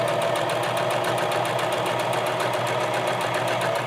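A sewing machine stitching a topstitched seam, keeping a steady, rapid mechanical rattle of needle strokes going the whole time, loud, close and continuous, with no talking.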